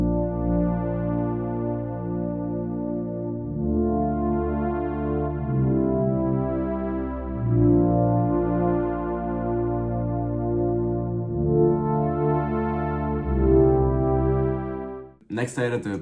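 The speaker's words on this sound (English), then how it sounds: "I added this pad from Xenology. It's called SLJN67 and it sounds like that." A Xenology synth pad, the SLJN67 patch, layered into a guitar loop swells with warm sustained chords that shift every few seconds, steady and full, ending with a brief bright noise.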